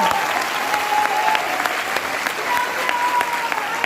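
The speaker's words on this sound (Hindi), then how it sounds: "तो एक बार अपने लिए जोरदार ताली बजाइए" Steady applause from an audience at an IMC RAS program in Kolkata, dense and continuous for several seconds, with crowd noise running underneath.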